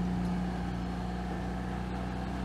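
A Citroën 2CV engine runs in third gear, a steady, even low drone with a light buzzing hum and no change in pace over a couple of seconds.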